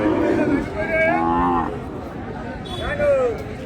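Cattle at a cattle market low and moo in drawn-out calls, two or three moderately close bellows rising over a steady murmur of crowd noise and chatter.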